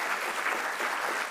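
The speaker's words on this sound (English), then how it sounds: "By the way, one more round of applause for Roderick Jenkins." Audience applause fills an awards ceremony hall at the 2025 NYCETC Opportunity Awards, a steady, dense burst of clapping with no pauses throughout the short moment.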